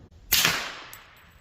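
A single sharp gunshot from a Ruger LC Carbine in 10mm, fired at a 25-yard range, cracking loudly and then trailing off in a brief echo.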